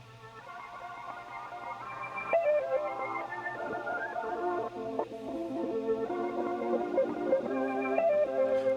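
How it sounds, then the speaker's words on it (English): A soloed looped beat element runs through an effect rack preset with echo, delay and panning, producing layered tonal notes with repeating echoes that build gradually and keep sounding throughout. "that's all going into a effect rack preset with some echo, delay, and some panning"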